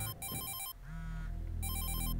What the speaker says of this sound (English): Phone rings. An irritating,